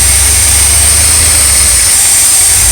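An RV engine with a newly working choke pull-off idles steadily and loudly up close, a continuous low rumble with a high whine over it and no voices.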